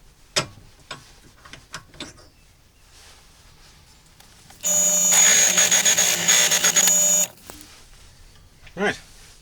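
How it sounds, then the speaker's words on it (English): A Forstner drill bit is sharpened with a power tool in a loud burst of whining grinding lasting about two and a half seconds, surrounded by quiet clicks and handling taps. "I'm going to sharpen the Forstner bit."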